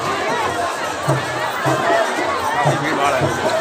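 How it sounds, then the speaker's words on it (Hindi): Dense crowd at a Mahashivratri flower-garden fair in Unchahar, Raebareli, a steady wash of overlapping voices, shouts and footsteps close around, with bursts of louder chatter rising from the continuous hubbub. "भीड़ भाड़ है"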